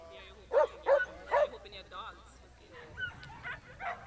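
Several dogs bark in short bursts at a community vaccination event, mixed with nearby voices and crowd chatter, the barks loud and clustered early before softer calls follow.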